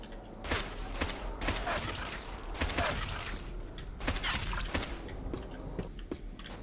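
Rapid gunfire from a powerful gun in Left 4 Dead 2, a steady stream of sharp shots cracking in quick succession at moderate level, with no voices over it.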